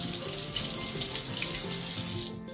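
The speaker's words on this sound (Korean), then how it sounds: "물로 헹궈주면 손댈 필요 없이 깨끗하게 세척돼요" Running tap water streams steadily into a sink while a vegetable peeler is rinsed under it, a close, continuous broadband rush that thins out abruptly just before the end.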